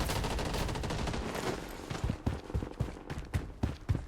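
Close automatic gunfire in the shooter game Blood Strike, beginning as a dense continuous barrage, then breaking into separate sharp bursts and single shots spaced irregularly, with no voices.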